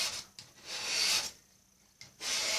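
A razor blade scraping the surface of a Chevy truck grill in repeated strokes, each a close, harsh rasping rub, with a short pause before the final stroke.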